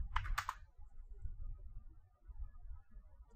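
Someone types on a computer keyboard, with a quick burst of close key clicks at the start followed by quiet background rumble.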